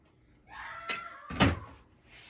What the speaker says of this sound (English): Now my door's open